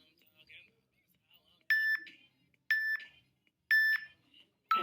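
Three evenly spaced electronic beeps from a workout interval timer sound about a second apart, each a sharp doubled tone, followed by the start of a fourth, with faint background noise between them.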